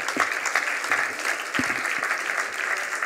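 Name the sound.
audience applause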